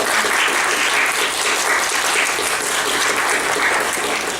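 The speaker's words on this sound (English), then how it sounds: "let's have a round of applause for Colleen Hoover." Audience at a 2017 MFA thesis reading gives a round of applause: dense, steady clapping from a sizeable crowd in a room, sustained throughout without talk.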